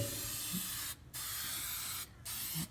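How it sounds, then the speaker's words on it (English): Aerosol can of Loctite Extend rust neutralizer sprayed onto a vehicle near a back window: two long, steady hissing bursts separated by a brief pause, close and loud, with a short third burst starting at the end. "I need to go ahead and finish spraying up here real quick and around this back window."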